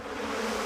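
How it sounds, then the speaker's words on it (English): Cartoon bees from The Simpsons give off a brief, dense insect buzz, loud and close, a constant drone with no pauses. "Willie, kill the bees!"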